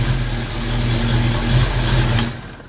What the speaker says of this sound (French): Elle a le petit rattle caractéristique des moteurs avec cam au ralenti.